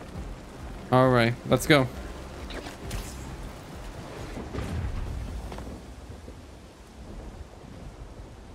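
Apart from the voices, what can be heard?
rain and thunder in the Spider-Man 2 video game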